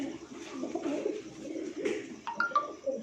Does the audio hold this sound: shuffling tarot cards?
no